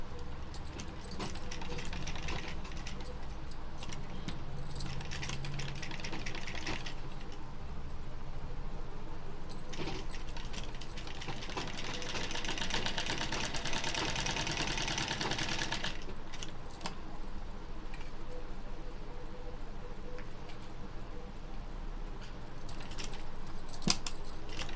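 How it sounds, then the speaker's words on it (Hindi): A sewing machine stitching fabric runs steadily and fairly close, its motor whirring continuously with a brighter, busier stretch in the middle and no talking. "अब हमने इस पे यहाँ से इस तरीके से हमने सिलाई लगा लेनी है।"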